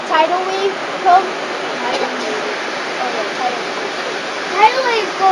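Ocean waves wash along the shore at Monterey Bay, a broad steady rush of surf with birds calling faintly over the top, heard close and fairly loud.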